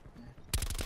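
Gunfire in the multiplayer mode of Call of Duty: Black Ops 4 opens partway through as a short burst of rapid shots, loud and close, after a stretch of low game ambience.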